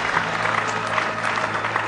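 A late-night talk show studio audience applauds, with brief, steady clapping at a moderate level from start to finish.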